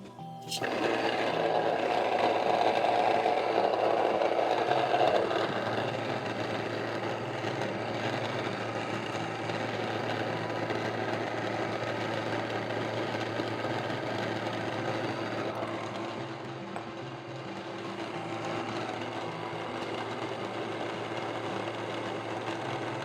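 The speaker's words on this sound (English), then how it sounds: "I will now bore you with all the milling of this flour" Electric grain mill grinding flour for pumpkin bread, a steady loud motor whine with a bright gritty edge for the first few seconds, then settling into a continuous mechanical drone that runs on evenly to the end.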